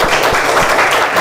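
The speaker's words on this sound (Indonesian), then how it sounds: "Tepuk kanan kelompok 3." Students in a classroom clap together for group 3, a short dense burst of applause heard close and loud.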